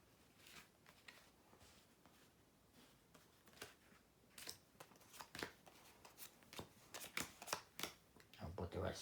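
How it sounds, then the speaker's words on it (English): Playing cards are dealt out, thirteen to each of two players, for the board game Take The Train, as a quiet series of crisp flicks and snaps that grow more frequent, under soft talk. "we're going to deal out 13 cards to each player"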